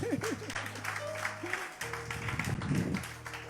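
A church congregation claps and cheers at moderate volume, mixed with sustained keyboard tones and a few vocal sounds in the background.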